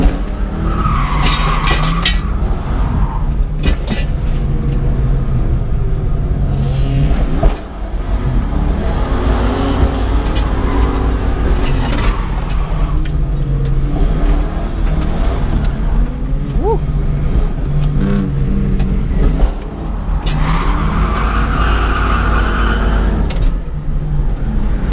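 An old Ford Mustang drifts on a track, its engine revving hard and loud in repeated surges while the tires squeal and skid through long slides, close and continuous.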